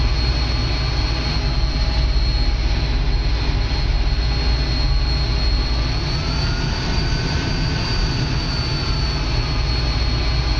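Simulated jet airliner taxiing at Manchester Airport in a flight simulator game, a steady, loud broadband engine roar with a high whine that holds constant throughout, no voices.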